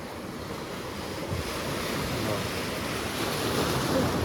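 Steady rush of waves surging and breaking at Ratneshwar Mahadev, a continuous broad wash of water with wind noise over the microphone, no voices.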